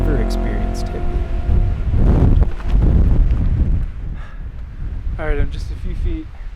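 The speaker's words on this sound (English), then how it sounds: "it is freaking windy" Strong, abrupt wind gusts on a snowy 9,782-foot Colorado summit roar and buffet the microphone in loud surges, with a voice briefly heard near the end.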